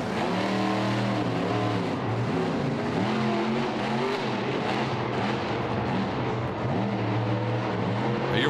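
A monster truck with a broken front end roars through a freestyle run, its engine loud and near, rising and falling in repeated revving surges over continuous arena noise.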